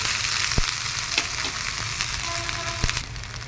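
Ginger and green chilli tempering sizzles with urad dal in hot oil, a steady close frying crackle broken by a few sharp taps of a spoon stirring the pan.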